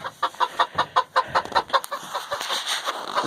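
Chickens cluck in a coop at night, a rapid series of close, sharp clucks and soft murmurs from several hens, steady and fairly loud, with no talk.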